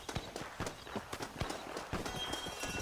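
In the video game Red Dead Redemption, a horse's hooves clip-clop in quick, uneven beats, close and fairly quiet, with no talk over them.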